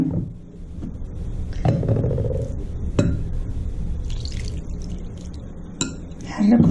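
Yeast is stirred into water from a clay jug in a bowl, with a spoon clinking against the side in a few distinct taps between soft swishing, close and fairly quiet, with a voice faintly present.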